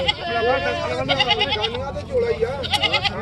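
A goat bleats repeatedly at close range in a wavering, nasal cry, with people talking over and between the calls.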